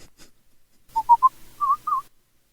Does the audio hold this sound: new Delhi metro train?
no